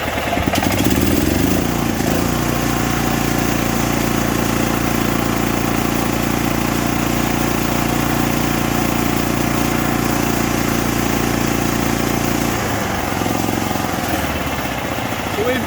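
A Kohler Command Pro small engine running at low RPM, a loud, steady close-up drone with a constant low hum that drops away near the end.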